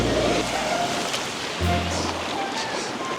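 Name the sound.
violent ocean waves on rocks in Los Cabos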